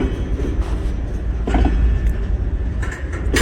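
A train tied down at Erwin, heard up close as a steady low rumble of idling locomotive and rail machinery, with a few brief clanks and hisses over the drone and no talking.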